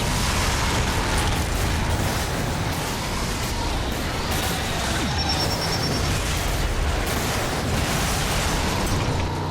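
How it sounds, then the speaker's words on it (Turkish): A sustained, rumbling blast of noise with fiery crackle, a car exploding in the video game RAGE, staying loud and dense for several seconds without talk. "Araba nasıl patladı lan öyle kendi kendine?"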